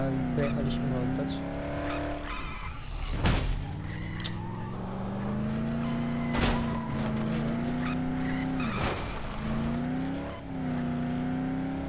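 A car driven in the video game Dead Island, its engine droning and shifting pitch as it revs up and down, with tyre skids and sharp impact bursts, while someone talks over it.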